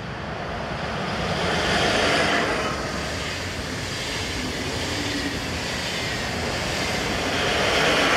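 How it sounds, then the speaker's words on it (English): Swiss railway units 11201 and 11221 depart Zurich on a service to Schaffhausen, producing a steady, broad rumble and rolling wheel noise that swells and fades slightly as the train moves past. "Next to appear were 11201 and 11221, working the 1700 departure from Zurich to Schaffhausen."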